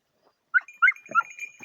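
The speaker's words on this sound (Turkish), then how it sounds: "Köpeklerimiz saldık arkadaşlar." A six-month-old dog gives a few short, high whimpering yelps in quick succession, close by, after a moment of silence.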